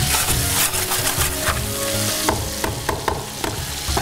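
Food sizzles and fries in a hot pan during tempering on a Pakistani cooking show, a loud, steady crackling hiss with scraping stir strokes, close up and uninterrupted by voices.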